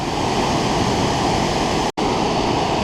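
Broad, steady roar of Burney Falls, a tall waterfall pouring into a cold pool, filling the whole spectrum evenly and close, with one brief dropout near the end.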